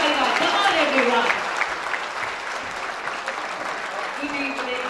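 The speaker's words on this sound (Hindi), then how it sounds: "आपके तालियां जोरदार आनी चाहिए" Audience applause welcomes guests at the Aadhar Shree Paints annual award ceremony in 2016, a dense, steady clapping wash that stays fairly loud throughout, with a voice and some musical tones faintly under it.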